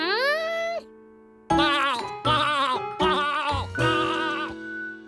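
Cartoon sheep from Curious George bleating, one long wavering baa followed after a pause by a rapid run of four or five short loud bleats close up, with a soft tonal jingle underneath.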